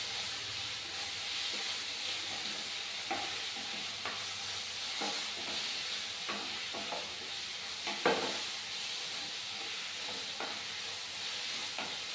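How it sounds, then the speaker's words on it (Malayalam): Curry leaves stirred into a Kerala-style chicken roast frying with browning onions, giving a continuous loud sizzle and hiss with intermittent scraping strokes of a spoon against the pan, close and without speech. "ഒരു മൂന്നാല് രണ്ട് കറിവേപ്പില ഇട്ട് കൊടുത്തിട്ട് നമുക്ക് നന്നായിട്ട് മിക്സ് ചെയ്യാം"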